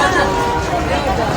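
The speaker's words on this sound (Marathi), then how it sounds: "भरपूरच गर्दी आहे गाईज" Dense crowd babble of many people waiting in a long queue at a Hanuman temple in Gujarat, a steady murmur of overlapping voices throughout.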